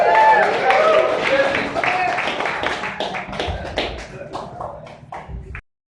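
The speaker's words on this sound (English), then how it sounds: "Give a big round of applause" Crowd clapping at a live event, dense and lively at first, then thinning into scattered individual claps before cutting off, with voices mixed in.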